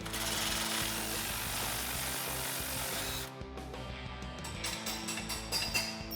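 A ratchet wrench with an 18mm socket works loose the lower shock bolt on a Jeep Wrangler JK, with dense rapid clicking and grinding up close, then slower separate ratchet clicks at the end.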